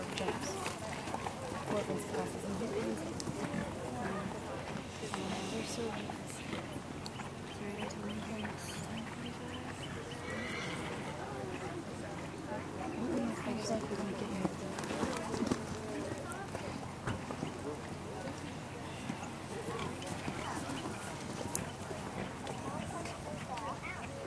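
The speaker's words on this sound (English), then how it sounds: "Riders, canter, please." Horses canter around a show arena during an intermediate flat class, with soft rhythmic hoofbeats on the footing under a busy, muffled ambience and a distant voice.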